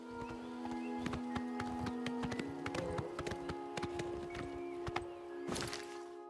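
Horse hooves gallop in the video game Oblivion Remastered, a quick, even run of hoofbeats over a constant musical drone.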